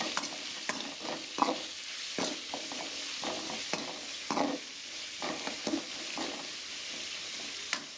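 Biryani ingredients being stirred and fried in a pan, with repeated scraping strokes of a spoon at an uneven rhythm over a steady sizzle, close and moderately loud, no voices.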